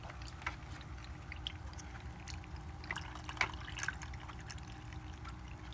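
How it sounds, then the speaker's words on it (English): Water gurgling and trickling as a fish tank filter fills, faint and steady, with a few soft drips and splashes rising above a low continuous hum. "You can hear it gurgling."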